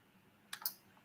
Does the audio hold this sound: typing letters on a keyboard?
yes